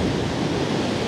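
Storm sea water surging over a beach at Anapa during a heavy storm, a steady loud roar of surf and rushing water with wind noise, no voices.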